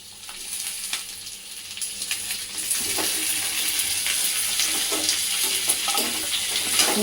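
Chopped tomatoes sizzling in hot oil in a pan for stuffed brinjal curry, with a continuous frying hiss that grows louder and denser, interrupted by occasional stirring scrapes.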